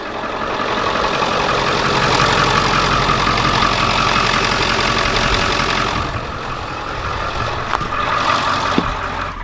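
A turbo diesel van engine runs steadily, a loud continuous rumble that holds for most of the stretch and eases slightly near the end, with no talking.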